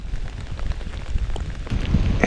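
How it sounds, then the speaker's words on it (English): Heavy rain pours outdoors on a fall deer-hunting sit, a dense, steady patter of drops striking nearby surfaces throughout, close and fairly loud with no voices. "It was pouring rain"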